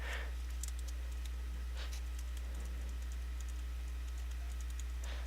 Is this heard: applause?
no